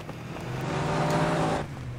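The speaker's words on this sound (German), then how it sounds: "Oh, da kommt ein Wagen hoch" A military vehicle in Battlefield 3 multiplayer conquest drives up closer, its engine droning steadily and swelling to a peak before easing off, a close, continuous motor hum lasting a couple of seconds with no talk over it.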